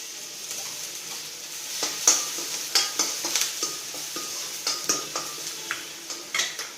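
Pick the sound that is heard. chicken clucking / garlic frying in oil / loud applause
garlic frying in oil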